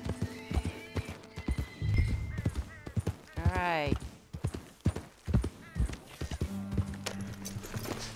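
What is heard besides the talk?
horse hooves in the video game Red Dead Redemption 2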